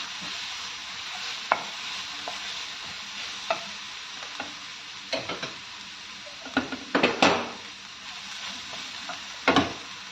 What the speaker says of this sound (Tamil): இப்போ இந்த ஸ்டேஜில் கருவேப்பிலை கருவேப்பிலையும் போட்டு ஒரு 2 பரட்டிக்கலாம்.